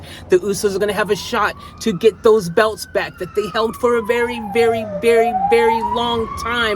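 A wailing siren sweeps up and down in the background, passing by beneath continuous loud speech from a commentator.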